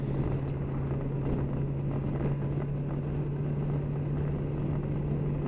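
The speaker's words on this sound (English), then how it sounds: "the sound of the bike is really quite something" Kawasaki Versys 1000 motorcycle engine while riding on a road, a steady low hum droning under wind noise without a break, with no revs rising or falling.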